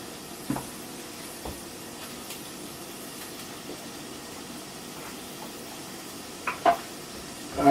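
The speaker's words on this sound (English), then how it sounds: "It's starting to do that sizzle." Kale sizzles in a hot pan, a soft continuous hiss with a few sharp crackles and stirring clicks, fairly quiet and close.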